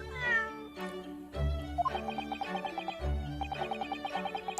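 A cat meows repeatedly in The Great Ace Attorney Chronicles, its bright, wavering cries rising over a steady game music bed with plucked, rhythmic notes, close and clear with no talking.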